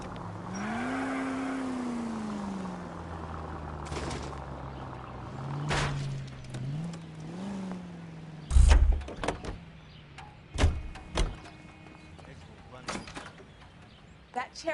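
A car driven in the game LA Noire, its engine droning and shifting pitch as it moves, followed by clunks and door-like thuds, with voices talking over the engine.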